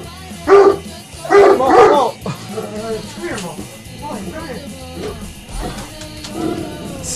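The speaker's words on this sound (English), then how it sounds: "you're going to hear the dogs barking" Several dogs bark in a few loud, close bursts near the start, then quieter yips and whimpers continue under a person talking.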